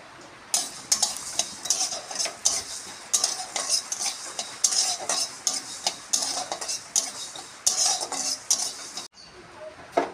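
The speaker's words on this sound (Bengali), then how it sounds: "ধনে আর জিরেটা আমি খালি কড়াইতে টেলে নেব।" A spatula scrapes and clinks over and over against an empty metal wok as coriander and cumin seeds are dry-roasted, a busy rhythmic stirring heard up close and alone.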